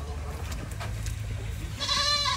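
A goat at a petting zoo in a Chiang Mai waterfall park lets out a single bleat near the end, following quiet background murmur and low rumbling.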